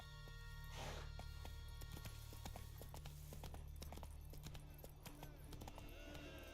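Roach, a horse in The Witcher, gallops with steady rhythmic hoofbeats throughout, set against a continuous musical drone, with a brief voice near the start.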